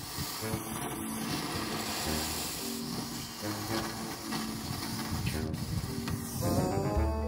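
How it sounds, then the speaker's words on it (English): Hot engine coolant sprays from the opened radiator of a mini wrecker in a steady, loud hiss that runs the whole time, with faint voices and some tonal clatter near the end. "There goes all our coolant."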